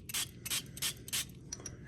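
A small spritz bottle of airbrush cleaner mixed with flow improver sprays in a run of quick, close bursts, about six short hissing puffs spaced unevenly with brief pauses between, no voices.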